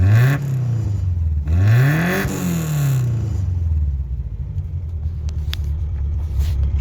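A Toyota Corolla engine revs twice through its exhaust, each rev rising and falling in a throaty swell, then settles into a steady, rumbling idle close by.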